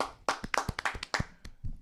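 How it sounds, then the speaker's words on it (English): Clapping and tapping sounds break out after a comedian's credits are read out on a morning show: a quick, uneven run of sharp hand claps and hits, close and moderately loud, with no voices. "Let's clap for that."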